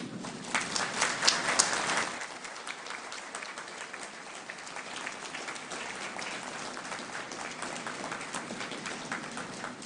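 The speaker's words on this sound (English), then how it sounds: "This would be a good time for graduates to stand and applaud all who have supported you along the way" Standing graduates at a university convocation for business and community social services give sustained applause, a crowded patter that peaks in the first two seconds and then settles into steady clapping, heard from across a large hall.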